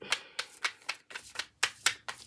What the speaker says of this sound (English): We're going to get them shuffled right now.